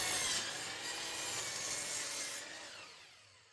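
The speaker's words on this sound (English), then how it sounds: "I use the miter saw to trim the sides square, making sure to hold it down safely doing so." A miter saw trims the sides of pallet wood square, a loud close steady cutting whine with rough grinding through the board that fades as the blade finishes the cut.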